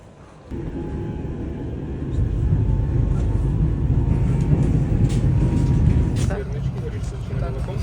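Train ride heard from inside a carriage: a steady low rumble of the moving train fills the whole clip, rising a little after the first couple of seconds, with faint voices in the background.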